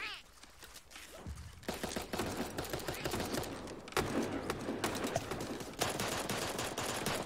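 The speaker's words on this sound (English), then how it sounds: "Okay, we darted someone." Dart gun fire in Super Animal Royale comes as quick repeated shots in clustered volleys after a quieter opening, fairly loud, with talk mixed underneath.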